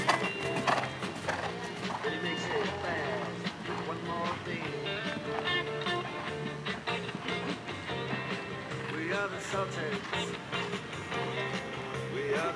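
A horse's hooves strike the ground during a show jumping round at an eventing competition. The hoofbeats keep a steady, rhythmic clip-clop at moderate distance beneath a commentator's continuous talking.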